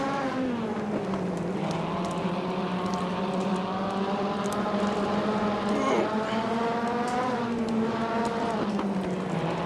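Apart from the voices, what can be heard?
wingless sprint car engines racing, Saturday Night Speedway PS2 video game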